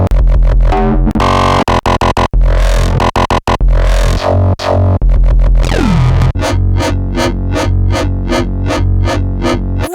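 Gritty FM synthesizer tones chopped and retriggered on a sampler in dubstep style, loud and dense, with stuttering cuts early on and then a steady pulsing rhythm of repeated wobbling stabs.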